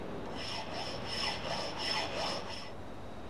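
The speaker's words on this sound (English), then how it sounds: "This is a flat file, but its shorter teeth remove much less material on each stroke." Flat file with short, fine teeth stroking across metal in a workshop, a soft rasping scrape in about five quick back-and-forth strokes, close but faint, then fading to quiet.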